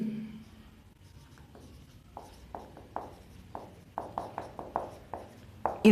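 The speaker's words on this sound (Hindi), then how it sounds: "तो मैं दोबारा लिख देता हूं" Chalk taps and scrapes on a classroom board during a chemistry lesson on sublimation, a string of short sharp strokes that grows busier toward the end, close and clear over a quiet room, no speech.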